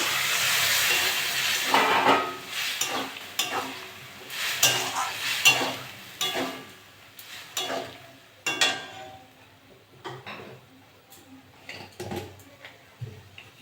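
Malabar spinach is tossed into a pan of spiced, fried small fish and stirred, giving steady sizzling with repeated scraping stir strokes that fade slightly toward the end; no talking.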